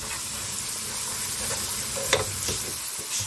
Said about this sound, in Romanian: Am pus ceapa la călit